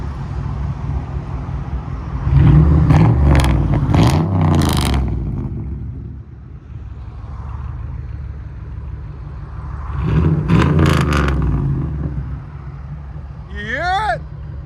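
A Lincoln Town Car V8 with a NASCAR-style exhaust revs in two loud, close bursts separated by a quieter idle, with a brief whoop at the end.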